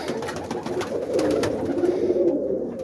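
Boston ripping roller pigeons coo softly inside a loft, a close, continuous murmur of several birds at once.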